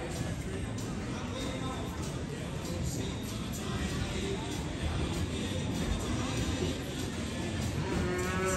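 Cattle at a youth ranch rodeo lowing amid a noisy crowd and continuous chatter, the moos blending into a dense, steady background of voices.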